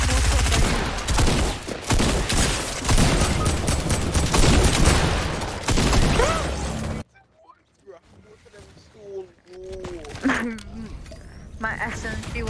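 Dense, loud automatic gunfire from a minigun in the Fortnite video game, a rapid sustained barrage for about seven seconds, then quieter game sounds with voices talking over them.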